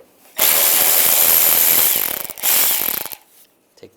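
Ratchet wrench with a T20 socket backing out screws on a 1999-2005 Volkswagen Jetta during radiator fan removal, a loud rapid clicking run of about three seconds with a brief pause, then quiet.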